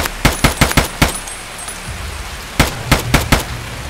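Gunfire in Escape from Tarkov rings out in two loud, close bursts of rapid shots, first about half a dozen quick reports, then a brief pause and another tight cluster.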